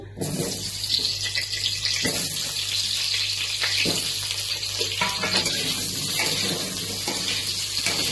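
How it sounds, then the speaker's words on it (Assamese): Continuous loud sizzling of potatoes frying in oil in a wok, dense crackle close by, with a few scraping stirs. "আলুটো একদম ৰঙাকে ভাজি ল'ব"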